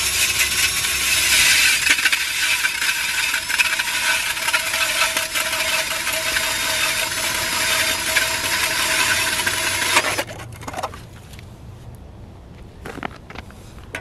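A drill fitted with a Clam ice auger adapter kit and dull blades bores through fresh lake ice. It gives a loud, steady grinding whir for about ten seconds, then stops abruptly, leaving faint scraping and knocks.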